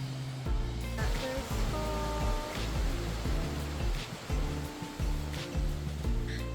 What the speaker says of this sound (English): thus we encounter our third waterfall.